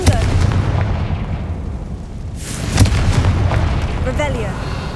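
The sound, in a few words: Confringo fire blast spell exploding in Hogwarts Legacy video game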